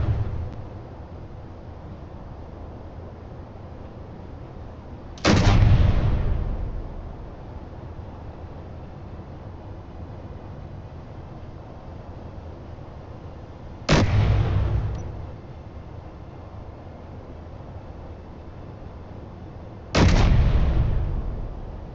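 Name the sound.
weapon fire blasting thrusters in a video game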